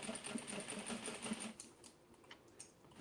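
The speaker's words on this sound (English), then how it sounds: "I'm sewing the waistband onto the other side." A sewing machine stitches a waistband onto an oversized denim tote bag, a fast rhythmic clatter for about a second and a half, followed by softer scattered clicks and fabric handling.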